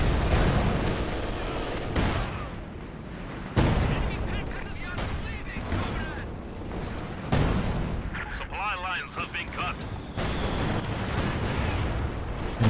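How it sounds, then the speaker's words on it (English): Mortar and machine-gun fire in Company of Heroes 2, a 1v1 match: repeated heavy thumps and crackling gunfire in bursts across the battle, with a commentator talking over much of it. "So double mortars perhaps going to be effective against these double machine guns"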